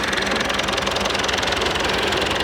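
An old Austin truck engine runs steadily on a farm, a close, continuous knocking mechanical chug with an even rhythm and no talk over it.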